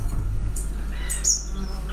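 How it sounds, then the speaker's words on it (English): Birds sing outdoors at a campsite, with scattered high chirps and short calls over a steady low background hum, fairly faint and intermittent. "particularly while we're listening to those birds."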